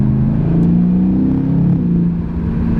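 A 2020 BMW M8 Competition engine revs hard in third gear with the window open, a loud, steady, close-up growl that holds a rising tone before dipping slightly as it eases off.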